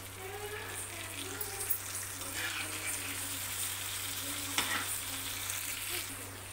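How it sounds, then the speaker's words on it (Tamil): Kavalai fish sizzles steadily in hot oil over a slow flame after being turned in the pan, a continuous close crackling hiss with a low steady hum underneath. "திருப்பி போட்டும் ஸ்லோ ஃப்ளேம்லேயே 5 நிமிஷம் மீன் வேகட்டும்."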